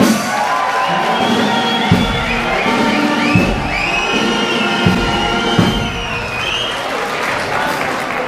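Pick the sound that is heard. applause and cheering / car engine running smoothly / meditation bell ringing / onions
applause and cheering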